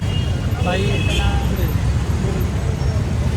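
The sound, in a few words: busy road traffic on FC Road, Pune, New Year's night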